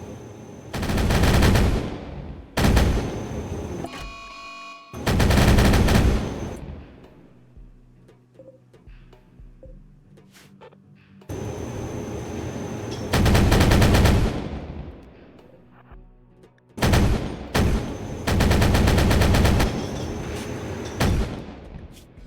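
A starship's guns fire in long, loud, sustained bursts in RimWorld, about six volleys separated by short quiet gaps filled with low rumble.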